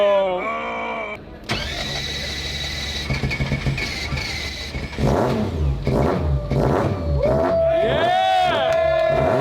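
A car engine, just fitted with a swapped ECU, cranks and catches on the first try, then revs up and down loudly with rising and falling whines, voices talking over it near the end.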